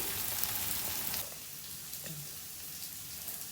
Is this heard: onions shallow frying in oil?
yes